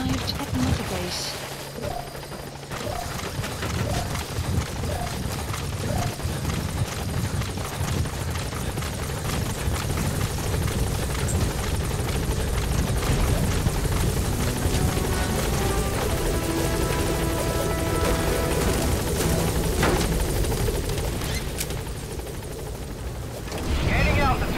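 An extraction helicopter in Metal Gear Solid V arrives at Mother Base with a continuous, loud rotor roar and whoosh throughout, and some talk is heard over it.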